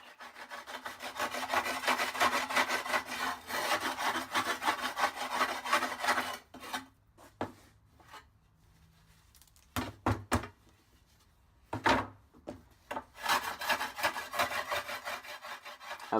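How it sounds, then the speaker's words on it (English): Scraping glass off a kiln shelf: a tool rasps back and forth in rapid rhythmic strokes, pauses with a few isolated knocks and scrapes, then resumes steady scraping, close and alone. "The glass just starts to fly everywhere when you start to scrape away"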